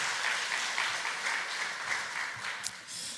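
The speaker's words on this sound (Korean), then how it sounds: "우리 이효존대 회원들께 다시 한번 격려 박수 부탁드립니다" Warm applause from a church congregation for a choir after a Sunday afternoon service song, a dense sustained clapping that thins slightly toward the end.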